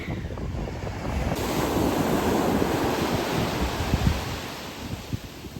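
Ocean surf rolls onto the shore in a broad continuous roar, with gusting wind buffeting the microphone, loud and near throughout, with no voices.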